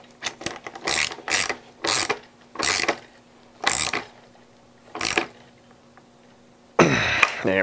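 A hand ratchet tightens a BBInfinite DUB bottom bracket on a bicycle with the chainring removed, giving about nine short, loud clicking bursts at an uneven pace, followed by a louder rattling burst at the end, no talk.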